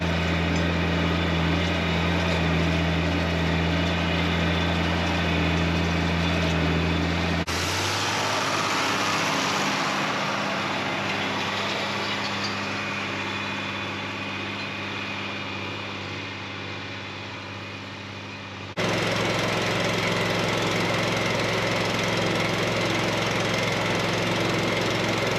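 Tractor pulling a field cultivator with S-tines and rolling baskets through tilled dirt, a steady loud engine drone with rattling implement noise that shifts in character midway and then returns, no talking.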